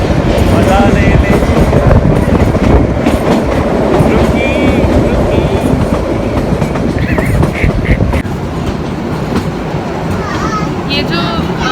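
The Kalka Shimla toy train, a UNESCO World Heritage railway, runs along its rails with a loud, steady rumble and rattle of carriages, metallic clicks and faint wheel squeals laid over the continuous roar.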